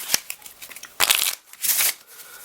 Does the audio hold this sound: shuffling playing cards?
yes